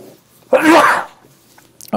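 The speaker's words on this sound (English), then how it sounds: "Oh, I'm going to sneeze." One sharp human sneeze bursts out loudly, short and explosive, in a quiet room with a man lecturing on the game of Go, followed by a brief pause and the start of more speech.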